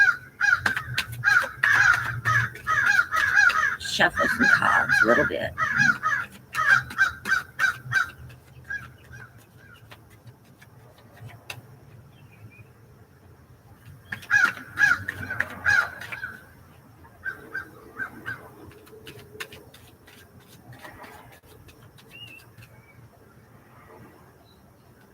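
Several crows caw loudly in repeated bursts, pausing and then calling again, while a person speaks softly at times in the background.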